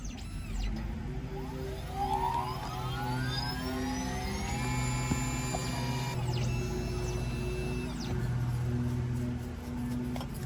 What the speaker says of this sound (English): All right, cutting our second key, guys, to the same ignition.